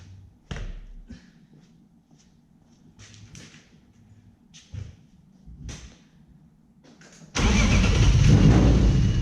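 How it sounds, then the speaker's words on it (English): BMW S52 engine from a wrecked M3 cranking after a few faint clicks and knocks, then catching and roaring into a loud, steady idle, close by. "I know the engine does run and still start."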